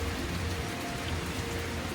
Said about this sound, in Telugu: చూస్తున్నారా ఎంత గాలి, అసలు గాలి వాన, అసలు ఉరుములు మెరుపులు.